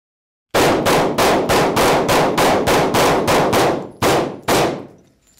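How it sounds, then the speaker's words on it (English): Rapid series of about a dozen loud, sharp 9mm gunshots striking a glass door coated with security window film, each crack ringing briefly, with a short pause before the last two shots. "Both of us have 10 rounds each for a total of 20 rounds to see the impact on this door"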